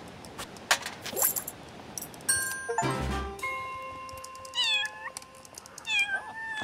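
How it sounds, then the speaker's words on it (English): Several cat meows from the video game Little Kitty, Big City, sounded in separate rising calls over the second half, along with chiming, bell-like game tones and light jingles; no speech. "And then I'll meow at that guy."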